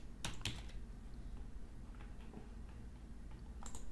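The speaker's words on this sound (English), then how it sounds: "we type Autofac" Typing on a computer keyboard sounds as a quick burst of close key clicks at the start, sparse taps through the middle, then another short flurry at the end over a low background hum.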